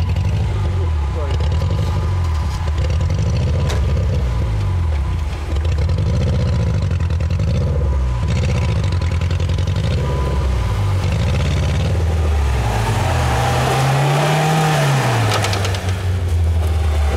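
A UAZ Patriot engine revs repeatedly off-road, rising and falling in loud close surges as a loaded wheel struggles to spin, with a voice speaking over it.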